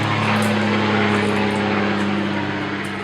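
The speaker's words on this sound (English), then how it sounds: "oh, helicopter flying over." A helicopter flies overhead with a loud, steady engine drone and constant low hum, continuous throughout with no voices.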